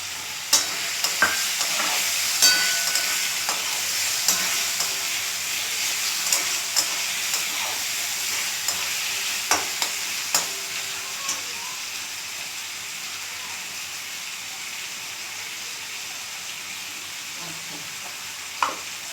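Tomatoes fry in a pan for chicken do-pyaza, giving a steady soft sizzle and hiss broken by repeated light scrapes and taps of stirring.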